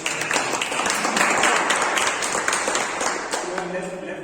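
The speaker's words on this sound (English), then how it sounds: "A huge round of applause" Audience applause after a speech at a meeting, a dense steady patter of many hands clapping at moderate loudness throughout, with some voices mixed in near the end.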